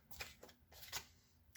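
Goddess guidance oracle cards being shuffled by hand: a few quiet papery riffles in short bursts, close and soft, with no talking.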